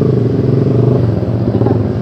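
A Honda Sonic 150R motorcycle idles and runs close by with a loud, continuous low rumble and a faint clattery texture, steady from start to finish.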